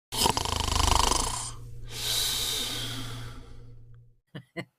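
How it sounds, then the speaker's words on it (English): A long, rasping snore with a broad rattling breath, a brief pause, then a softer drawn-out exhale, followed by a few short snuffling bursts. "they have a hard time breathing, they snore"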